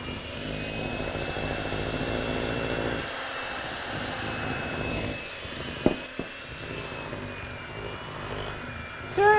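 A Shardor electric hand mixer runs on speed 1 through dry ingredients, giving a steady motor whir with a thin high whine, briefly dipping and then resuming, with a few clanks of the beaters against the bowl.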